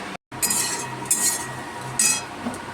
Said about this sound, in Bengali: যেহেতু পাকা চলছে আওয়াজটা আসতেই পারে।